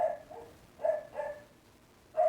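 A pet dog barks in a few loud, close yips spaced over a couple of seconds, with quiet gaps between them and no talking.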